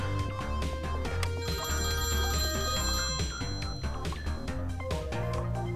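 A telephone rings inside a phone booth in the video game Night City Assault, a steady electronic ringing with bright sustained tones that carries on continuously over a busy background layer.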